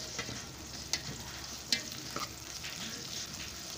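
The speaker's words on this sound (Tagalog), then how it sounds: "kunting luto pa ng sibuyas at medyo malasado pa" Onions fry in a pan for an ampalaya dish, producing a faint, even sizzle with a few sharp scraping clicks from stirring, close by and without talk.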